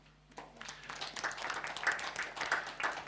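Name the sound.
audience applause welcoming a speaker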